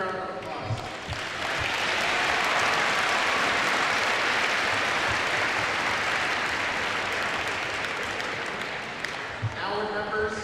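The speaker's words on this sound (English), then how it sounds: "How about a big round of applause?" A large crowd applauds in a basketball arena after a girls' state Class B championship game, a loud, steady wash of clapping that swells quickly and holds for about eight seconds before tapering off.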